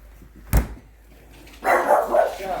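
Dogs bark inside a converted Vauxhall Movano campervan: one sharp, loud bark rings out near the start, then a burst of close yapping and whining follows a moment later.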